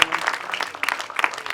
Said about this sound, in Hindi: तालियां जी, तालियां आप बजाएं, तालियां।